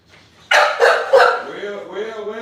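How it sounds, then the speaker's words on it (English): American bully dogs bark loudly and close by in three quick, heavy woofs, then trail off into softer whining yips. "I'm gonna start letting these dogs get out"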